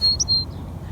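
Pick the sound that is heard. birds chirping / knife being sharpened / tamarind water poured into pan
birds chirping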